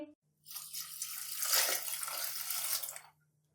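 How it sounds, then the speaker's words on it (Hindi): About two glasses of water poured into beef karahi gosht seasoned with salan masala, a steady splashing stream lasting close to three seconds, alone over a faint low hum. "अब हम इसमें तकरीबन 2 गिलास के करीब पानी ऐड करेंगे।"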